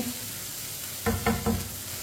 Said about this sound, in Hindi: टमाटरों को भी चम्मच चलाते हुए पकाना है।